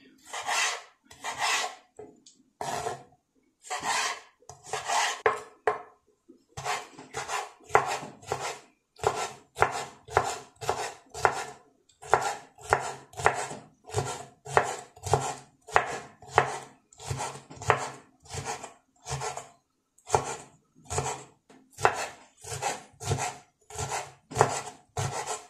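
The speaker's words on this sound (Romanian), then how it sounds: "Voi tăia și ardei capia, bucățele mai mici." Knife chopping capia peppers into small pieces on a board, a long run of close, crisp, rhythmic cuts in steady bursts, with no talk.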